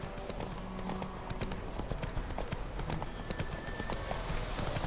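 The horse Roach gallops steadily in a video game, with rapid rhythmic hoofbeats close by over a low ambient bed, continuous and moderately loud with no voices.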